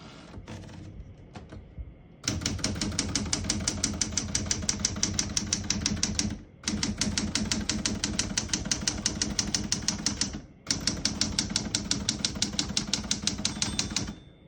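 Rapid keystrokes on a 1974 Smith-Corona Galaxie Twelve portable typewriter clatter up close in steady bursts, broken by two short pauses, with a few isolated key taps before the typing starts.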